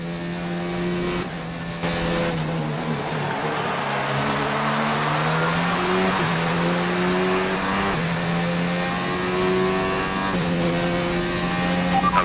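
Formula 1 racing car engine in a video game at the Australian Grand Prix, a loud sustained high-pitched whine shifting up through gears, with a faint tire squeal and no speech.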